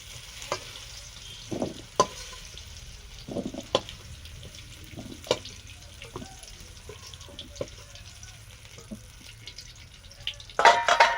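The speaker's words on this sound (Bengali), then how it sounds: "গাজর, বিনস, মটরশুঁটিগুলো ভেজে নেব" Carrots, beans and peas frying in oil in a home kitchen pan, a steady soft sizzle broken by scattered clicks and scrapes of stirring, with a louder clatter near the end.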